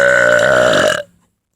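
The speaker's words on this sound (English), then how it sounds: "I'm just gonna be in the background burping." One long, loud, rumbling burp lasts about a second and then cuts off into silence, with no other sound alongside it.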